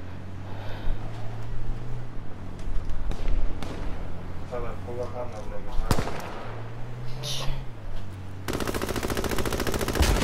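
Bursts of light machine gun fire in a video game, loud and rapid, coming in repeated rattling volleys with other gunfire and a low engine hum underneath, while players talk over it.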